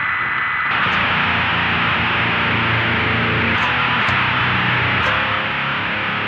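Electric guitar pushed through a BOSS HM-2W Heavy Metal pedal, producing a thick, saturated buzzsaw roar that sustains loudly and continuously with a few chord changes and no voices.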